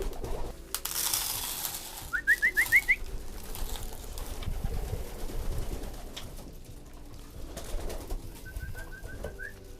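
Pigeons in a loft give soft cooing calls and short whistly notes in two brief bursts over low rustling and shuffling background, moderately faint and close by.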